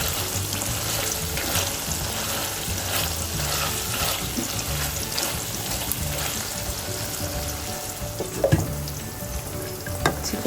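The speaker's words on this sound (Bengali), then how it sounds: "চিকেনটা আমার ওইদিকে রান্না হচ্ছে, খুব সুন্দর হচ্ছে।" Chicken frying with garlic in a pan sizzles steadily and close up, a dense continuous crackle with occasional stirring clatter near the end.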